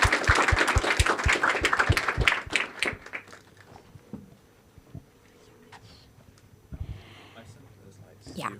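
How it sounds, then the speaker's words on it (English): A conference audience applauds at the end of a talk: dense clapping for about three seconds, which thins into scattered claps and quiet room noise, with some faint talk afterward. "please give him a round of applause"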